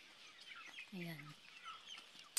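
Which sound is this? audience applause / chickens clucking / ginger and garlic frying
chickens clucking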